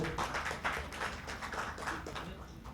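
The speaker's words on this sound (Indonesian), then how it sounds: "Boleh kita berikan tepuk tangan untuk Mas Edo." Audience applause for a speaker being welcomed on stage at an Indonesian talk event, a steady wash of clapping lasting the whole moment at moderate level with no talk over it.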